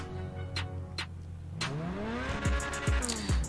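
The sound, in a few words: car exhaust revving after tuning, from video game GTA Online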